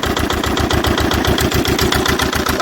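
A Lister twin-cylinder diesel engine running close by without an exhaust fitted, a loud, even chugging beat of rapid regular pulses throughout.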